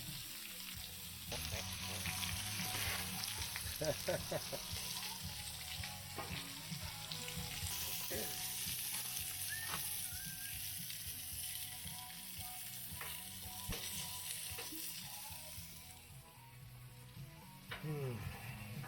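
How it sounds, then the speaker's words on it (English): Meat sears in a hot pan with a loud, continuous sizzle and crackle lasting the whole stretch, with scattered pops and utensil clicks on top and faint talk now and then in the background. "let's get a nice sear pretty darn quick"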